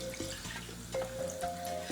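Two cups of hot water pour steadily into a pot of grain in a home kitchen, a continuous splashing trickle heard up close with a faint ringing tone underneath and no talking.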